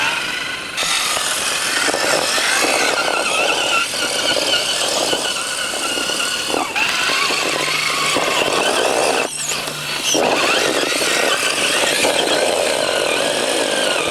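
A Capo Ace 1 4x4 RC rock buggy truck crawling over tree roots in low gear, its electric motor whining and straining loudly and continuously, with pitch surges and brief dips as it climbs and articulates.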